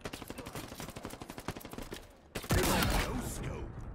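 Rapid bursts of gunfire from a weapon in Halo Infinite, a fast rhythmic string of shots, then a pause and a loud heavy blast with a lingering rumble.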